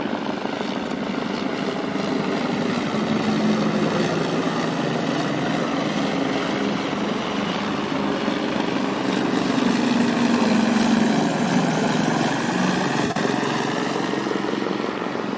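A helicopter's rotor thrum drones steadily overhead for the whole stretch, swelling slightly louder midway, with no talking, near the Tappan Zee bridge.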